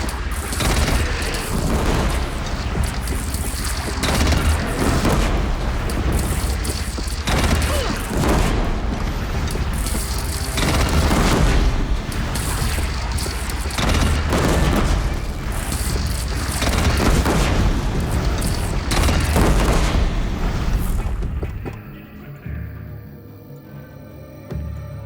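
Heavy cannon fire and explosions from the video game Horizon Zero Dawn Remastered, a dense barrage of loud booms and gunfire-like blasts for about twenty seconds before the din drops away.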